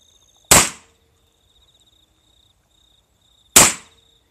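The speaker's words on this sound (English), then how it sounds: "I'm just shooting into the ground right next to them here where I'm feeding" Two loud, sharp gunshots fired into the ground beside feeding Vizsla puppies crack about three seconds apart, each decaying quickly, with faint insect chirping in the quiet between.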